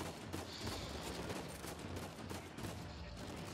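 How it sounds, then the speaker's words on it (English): Dense in-game gunfire from Uncharted 4, a continuous fusillade of overlapping shots and bursts filling the whole stretch at steady loudness, with no clear speech over it. "Who's shooting?"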